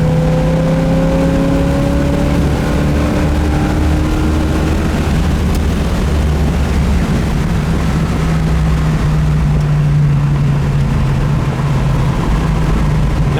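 A 1970 Chevelle SS V8 accelerating on the road, its exhaust note rising steadily in pitch through the gears, then settling into a loud, even cruising drone close to the microphone.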